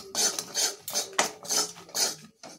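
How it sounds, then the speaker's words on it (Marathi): Whole spices (bay leaves, cinnamon, cardamom and clove) are stirred in a hot pan for paneer bhurji, giving close, rhythmic scraping strokes of a utensil against the pan, about five in quick succession. "हे पण आपल्याला छान परतून घ्यायचं आहे"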